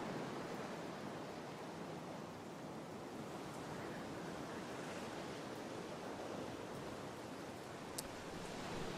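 Steady water and rain ambience in the video game Diablo IV, a soft continuous wash of broadband noise like surf or rainfall, even and unbroken, with one brief faint tick near the end.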